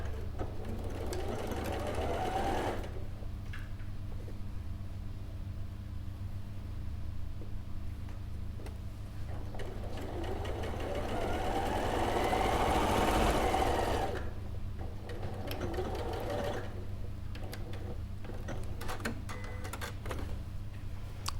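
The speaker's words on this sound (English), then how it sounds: "I'm going to do a bit of sewing." Sewing machine stitching a seam with a rapid, steady mechanical whir, in bursts with pauses between them and one longer, louder run in the middle.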